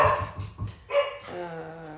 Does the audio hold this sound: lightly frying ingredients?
no